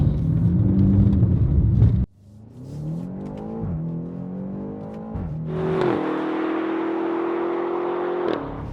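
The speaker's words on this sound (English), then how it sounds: "This is the X6 M on the road where it really belongs" A BMW X6 M with 575 horsepower accelerates on German roads, its engine climbing through gears with clear revving sweeps and shift breaks, then holding a loud steady drone heard from inside the cabin, no talking.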